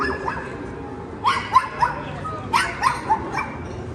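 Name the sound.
dog barking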